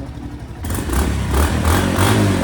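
Stock-exhaust Honda CB110 motorcycle engine idles and revs up close, a loud low throbbing rumble with mechanical clatter that starts abruptly and holds steady; a voice briefly speaks over it.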